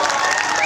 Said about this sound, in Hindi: अगर विजय तिवारी साहब को आप बुलाना चाहते हैं तो ताली बजाकर इस्तेमाल कर